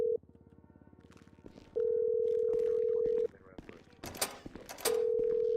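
A phone call dials in a GTA roleplay video game, a steady ringback tone repeating in long pulses with a short burst of noise between them while someone talks over it.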